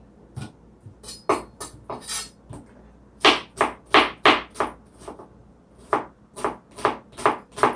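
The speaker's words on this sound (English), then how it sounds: "I'm just slicing through the onion, making sure it's sliced very well" A knife slices through half an onion on a cutting board in a rapid run of crisp, close knocks, first in a short cluster, then as a steady rhythmic series of firm strokes heard alone.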